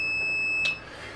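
A multimeter in continuity mode beeps once while probing a short circuit on a Sony PS5 board being repaired, a short clear electronic tone over a steady background hum.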